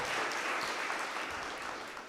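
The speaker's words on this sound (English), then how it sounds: "A round of applause, please, for Makueni girls." An audience claps steadily at a senior schools' debate competition between two girls' teams after the judges' result, with a dense, even applause lasting about two seconds.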